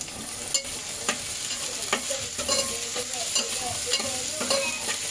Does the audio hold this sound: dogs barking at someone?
no